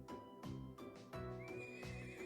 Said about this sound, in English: this horse recently arrived from the North Highlands